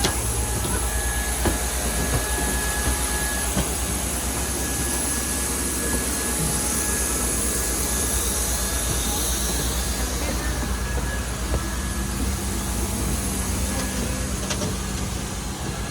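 A loud, steady jet engine roar from an Air India Express airliner fills the air without letup while boarding, a broad rushing drone with a faint high whine, heard from close by.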